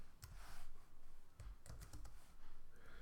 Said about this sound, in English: I'm going to type in a message here